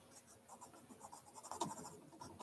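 Watercolour pencils scratch and rub across paper in short, quiet strokes, close up and alone, growing a little busier toward the end.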